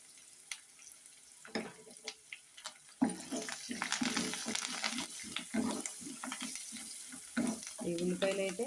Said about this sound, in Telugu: ఈ ఉల్లిపాయలు అయితే గోల్డెన్ బ్రౌన్ కలర్ వచ్చే వరకు వేయించుకోవాలండి